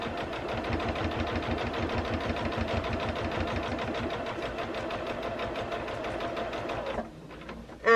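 A sewing machine runs steadily as it stitches down the top edge of a quilt, its fast, even needle chatter close and continuous for about seven seconds before stopping abruptly.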